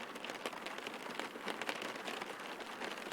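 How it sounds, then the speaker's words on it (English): Heavy rain in the X-Plane 11 flight simulator, a quiet, dense patter of drops drumming steadily on the aircraft with no voices. "select heavy rain."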